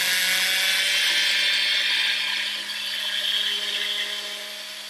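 A rotary hand piece fitted with a heart burr whines steadily at high pitch as it textures titanium, a continuous loud buzzing grind that eases slightly partway through.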